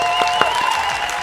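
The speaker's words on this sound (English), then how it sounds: "Everyone, round of applause." A brief round of applause at home after a family catfishing day, a few quick claps over a steady electrical hum, short and close.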